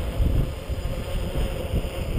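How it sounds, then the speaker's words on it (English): Steady wind buffeting a microphone outdoors in near-freezing weather during a quadcopter test flight, a continuous low rumbling roar with gusty swells and no talking. "It's pretty windy out here,"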